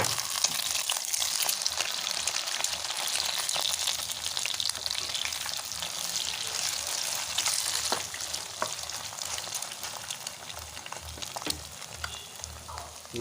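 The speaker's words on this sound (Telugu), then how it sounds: "ఇలా ఎగ్ అయితే ఒక సైడు వేగిన తర్వాత కింద మాడకుండా అయితే దీన్ని మొత్తం తీసి ఇంకొక సైడ్ అయితే వేసుకోవాలి" Egg frying in a pan with onion for an egg dish, a continuous crackling sizzle of oil at steady volume with occasional scrapes and taps as the egg is turned over.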